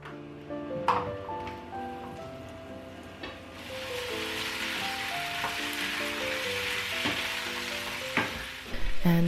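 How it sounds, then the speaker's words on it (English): Zucchini frying in a pan gives a steady, close sizzle with a few clinks of stirring, and the hiss swells louder partway through. "For the filling, I'm preparing some fried zucchini"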